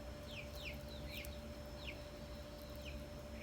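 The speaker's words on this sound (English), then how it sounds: "You can hear the chickies." Chickens cluck and chirp faintly in the distance on a quiet property, short calls scattered over steady background hiss and hum.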